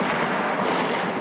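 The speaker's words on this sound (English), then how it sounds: "Gunfire on the bridge aimed at anti-government protesters." Sustained, dense roar of gunfire on a bridge aimed at protesters during street unrest in Egypt, loud and continuous with no clear gaps between shots.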